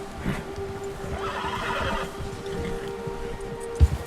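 A horse in Red Dead Redemption 2 gives a clear, drawn-out whinny against a quiet outdoor background, followed near the end by a few dull hoof thuds. No one speaks.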